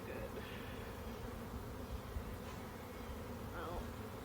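Honeybees buzz in a steady, continuous drone around an opened hive during a hot-day inspection, with no voices over the dense hum.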